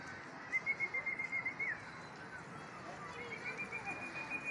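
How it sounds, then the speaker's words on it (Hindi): Pigeons in a loft holding about a hundred and twenty birds give soft, rhythmic runs of cooing, heard twice and faint, along with a thin whistle-like tone. "एक सौ बीस कबूतर है जिनका शौक हो रहा है।"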